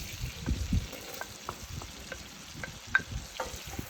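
Diced onions soften in melted butter for a risotto, a quiet, low sizzle dotted with scattered small pops and soft stirring scrapes close by, with no talking.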